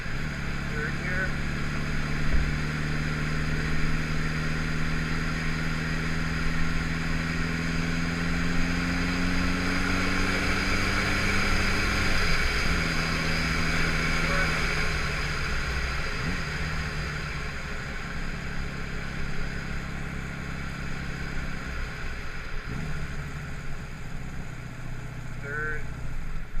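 A Yamaha XS11 motorcycle on its first ride after a rear master cylinder rebuild, its engine droning steadily up close, pitch climbing and dropping through gear changes, with wind rush and occasional talk over it.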